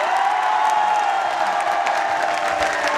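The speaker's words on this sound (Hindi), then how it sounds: "सबसे ज्यादा ताली अगर बजनी चाहिए तो अवधेश गुरुदेव के लिए और अमित गुरुदेव के लिए" An audience applauds for Avdhesh Gurudev and Amit Gurudev, steady dense clapping with cheers from a large crowd, loud and sustained for the whole stretch.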